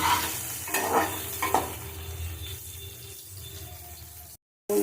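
Amra (hog plum) chutney being stirred in a pan, with close scraping strokes over a soft bubbling sizzle in the first seconds, then quieter simmering that ends in a brief silence.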